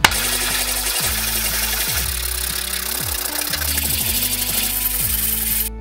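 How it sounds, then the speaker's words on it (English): Surfaces of 3D-printed pocket slingshot parts are ground with a power tool, a loud buzzing drone broken by repeated short dips in pitch as the tool loads and releases against the plastic, running continuously without speech. "Next step is grinding the surface."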